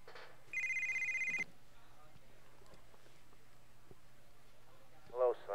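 A telephone rings in Grand Theft Auto: Vice City, one short electronic ring burst near the start over a low game hum, followed by quiet footsteps and a brief voice at the end.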